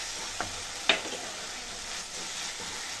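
A chicken biryani mixture with yogurt is stirred in a pan, producing a soft continuous sizzle broken by two brief spoon scrapes early on, fairly quiet and with no voices.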